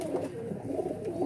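Domestic breeder pigeons cooing softly and steadily in a loft, a continuous low murmur of overlapping coos with no talk.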